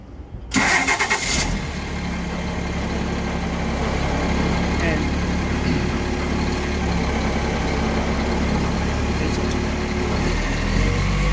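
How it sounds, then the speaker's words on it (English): A tractor engine cranks and catches with a brief loud start, then settles into a steady, close mid-pitched idle that runs on without change. "And now we're going to start the engine."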